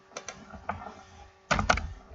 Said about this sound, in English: Typing localhost